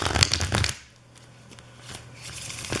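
Tarot cards are shuffled by hand in a few quick, close riffling bursts at the start, followed by softer, quieter handling of the deck.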